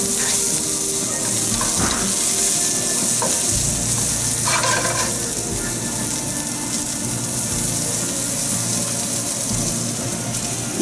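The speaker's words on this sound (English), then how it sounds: "This has come back up to a boil" A pot of water rolling back up to a boil on the stove while mushrooms cook for a Southeast Asian vegetable stir-fry, giving a steady broadband bubbling and hiss with a few clinks, close and continuous, with no talking.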